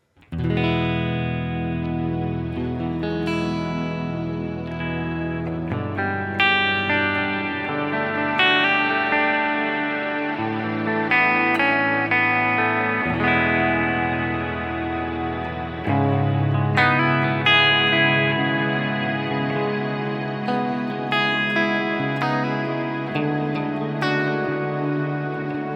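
Electric guitar played through a Kemper profiler with a reverb morph effect, sustained distorted chords and ringing notes washing into long reverb tails, loud and continuous without any talking.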